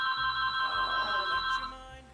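A telephone rings with a steady, bright electronic trill that holds for about two seconds, loud and close, with no voices.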